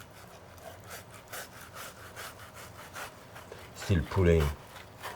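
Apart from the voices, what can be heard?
knife removing skin from a fish fillet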